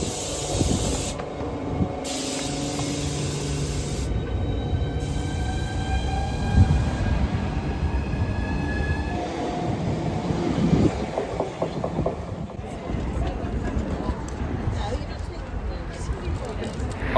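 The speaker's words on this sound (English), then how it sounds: "it was time to alight our Javelin train as it made its way onwards to Margate" Javelin high-speed commuter train pulling away onwards to Margate, a steady rolling rumble with hiss and faint clatter rising over the clip, heard close from the platform with people talking nearby.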